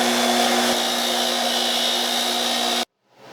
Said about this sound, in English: I'm going to take a few minutes on the wire wheel, polish these up